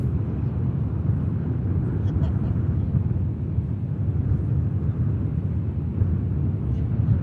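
A Saudi airliner taxis at Manchester Airport, a constant loud low jet rumble and roar that stays steady throughout.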